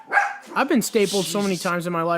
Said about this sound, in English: sorry for the dog noise